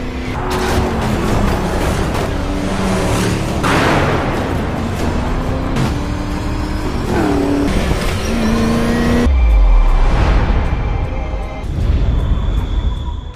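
Race car in a death race film scene, leaping a broken bridge, with a loud, roaring engine accelerating and whining upward, tire noise and a sudden heavy impact thud, backed by dense soundtrack sound.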